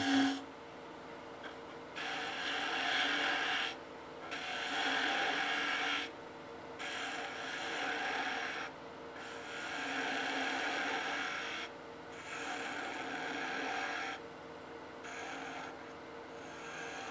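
A wood lathe turning a goblet: the tool scrapes and rasps against the spinning wood in repeated bursts of a second or two, broken by short pauses, close and steady.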